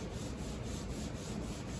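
Oxidized car paint being polished by hand with paint cleaner, a faint, close, continuous gritty rubbing with soft rhythmic strokes and no talk.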